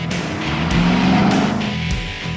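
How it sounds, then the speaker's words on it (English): A 2014 Mercedes-Benz SLK 55 AMG with its 5.5-litre V8 drives with the roof down, giving a loud, steady engine roar with rising and falling revs and a few sharp surges. "I'm driving the 2014 Mercedes-Benz SLK 55 AMG."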